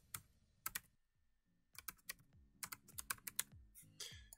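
Keys clatter on a computer keyboard as an email address and password are typed, coming in quick bursts of close, crisp clicks broken by short pauses, with no voices.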